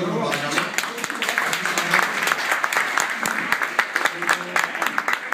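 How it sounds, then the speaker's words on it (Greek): At an awards ceremony honoring veteran figures of a Greek football club, an audience breaks into sustained applause: many hands clapping steadily and fairly loudly for several seconds. "Ένα χειροκρότημα παρακαλώ."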